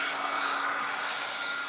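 A heat drying tool blows over paint on a mixed media craft background: a steady, loud whooshing hum of fan and airflow, continuous and close, with nothing else heard.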